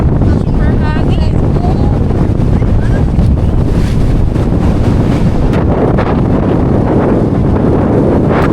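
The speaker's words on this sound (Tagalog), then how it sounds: "Super hangin." Strong wind roars and buffets the microphone continuously at Angat Dam, with a faint voice or two audible beneath the steady rushing noise.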